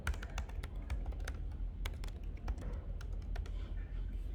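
Fast, uneven clatter of keys on a computer keyboard while code is written, with many crisp clicks close to the microphone over a low, quiet background hum.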